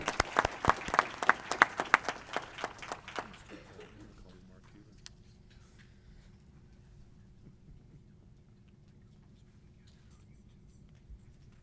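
A small audience at the Hemet-San Jacinto fast pitch competition claps briefly, a few seconds of sparse, distinct hand claps that quickly fade into quiet room tone.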